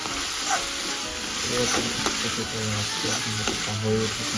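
Oyster mushrooms with red chili powder and meat masala sizzle and fry in a pan while being stirred, a steady close crackle with scraping stir sounds throughout.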